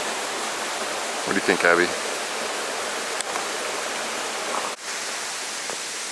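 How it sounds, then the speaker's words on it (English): Stream flowing upstream of a coastal waterfall on the Oregon coast, a steady broadband rush of water throughout, with a brief spoken question partway through and a couple of small knocks. "this right here is the upstream of that waterfall that went down to the beach."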